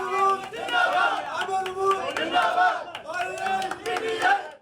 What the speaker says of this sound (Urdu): کارکنوں کی کثیر تعداد نے شرکت کی، پارٹی اور شفقت محمود کے حق میں نعرے لگائے۔